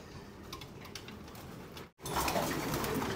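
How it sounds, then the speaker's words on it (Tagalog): Racing pigeons coo softly while feeding in a loft, with faint pecking and shuffling beneath the low calls and no talking. "Ito na nga sila lahat mga kalapatids. Kain na."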